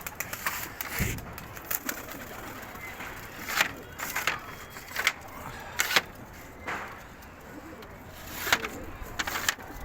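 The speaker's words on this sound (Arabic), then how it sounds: "بصوا الحمام بيطلع اهو" Pigeons emerge from a rooftop loft with bursts of wing flaps and scattered cooing, mixed with rustling and knocks of wood against a steady outdoor background hum.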